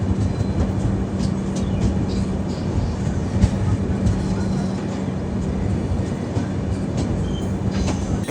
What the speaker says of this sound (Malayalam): നമ്മളങ്ങനെ ലക്നൌവിലെ ഐഷ്ബാഗ് ജംഗ്ഷനിലേക്ക് കയറിക്കൊണ്ടിരിക്കുകയാണ്